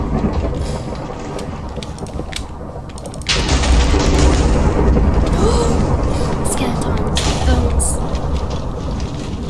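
Explosions in the Minecraft video game, with a loud boom partway through that gives way to a dense, rumbling barrage of crackling blasts. People talk over it.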